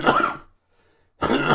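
A man coughs twice in short, harsh bursts close to the microphone, with a second of silence between them, during a spoken talk.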